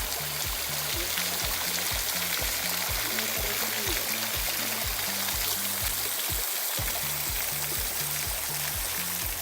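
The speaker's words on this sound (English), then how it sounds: "This is mysterious waterfall." Water pours steadily over the Mysterious Waterfall at Krushuna in Bulgaria's Lovech region, a dense, constant roar that fills the whole clip, with faint rhythmic low tones running underneath.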